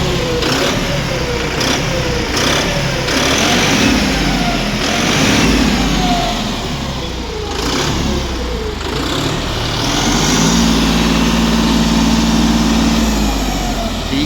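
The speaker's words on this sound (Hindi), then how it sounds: "तो अब सुन लेते हैं ट्रैक्टर का साउंड।" A 55 hp John Deere 5210 turbo diesel tractor idles close by with a steady low rumble, rising and falling slightly as revs shift, with a sustained turbo whine near the end.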